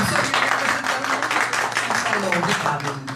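Audience applause for a professor at a Brazilian literature lecture, a dense wash of clapping that holds steady throughout, with voices and chatter mixed in underneath.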